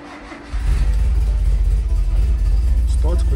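A car engine cranks and catches after a timing adjustment, then settles into a loud, close, steady idle with heavy low rumble, a voice briefly heard near the end.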